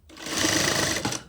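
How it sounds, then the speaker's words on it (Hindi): A sewing machine runs a straight line of stitching through fabric for an inner pant, a close, continuous fast whirring burst lasting just over a second. "बिल्कुल स्ट्रेट सिलाई मारनी है हमें।"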